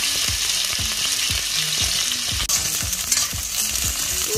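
Onions with cumin fry in mustard oil, a steady close sizzle with regular scraping strokes of a spatula stirring the pan, no voices.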